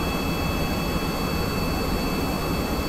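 In Kerbal Space Program, an X-15 rocket plane gives off a continuous, even droning roar with a faint high whine, unbroken and steady throughout.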